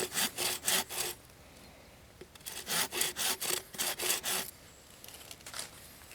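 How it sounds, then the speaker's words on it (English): A hand saw cuts an angled notch into a wooden stick for a split-stick figure-4 deadfall trap, with two runs of steady back-and-forth rasping strokes separated by a short pause, close and clear. "I'm going to make a straight cut with my saw, preferably at a slight angle inwards towards the deadfall"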